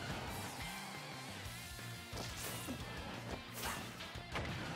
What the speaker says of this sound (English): he blows up the TNT on purpose